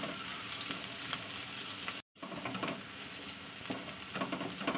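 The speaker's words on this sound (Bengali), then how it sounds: "আমি দিয়ে দিচ্ছি একটা বড় সাইজের পেঁয়াজ, কুচানো পেঁয়াজ। পেঁয়াজটা একটু লালি করে ভেজে নিতে হবে।" A large chopped onion fries in hot oil, a loud continuous sizzle with stirring scrapes, briefly cutting out for an instant before resuming.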